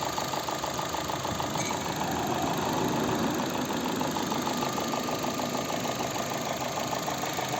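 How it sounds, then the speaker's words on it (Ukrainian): A 2009 Opel Zafira 1.8 petrol engine idles steadily up close, a constant rumbling hum with a fine rhythmic ticking running through it, no voices. "Ось ну, робота двигуна."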